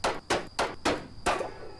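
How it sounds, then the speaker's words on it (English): Five heavy hammer blows strike a door handle in American Theft 80s, a video game, landing at an uneven rhythm, loud and close with no voices over them. "You can break the uh, handle on this now. So we can use our hammer."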